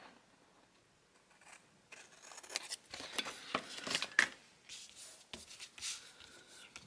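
Scissors snip and trim a folded planner sticker for an Erin Condren binder, a quick run of close, crisp cuts with paper rustling in between.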